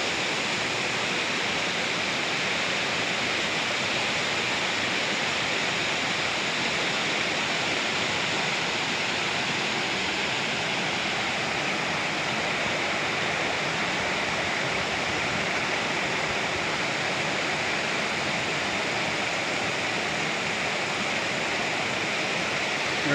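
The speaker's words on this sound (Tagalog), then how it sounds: "ang tubig na yan galing doon sa Monte Sarog" Stream water flowing down from Mount Isarog rushes steadily and close by, a dense, unbroken wash of splashing water with no pauses and no voices.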